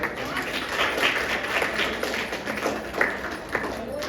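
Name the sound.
audience applause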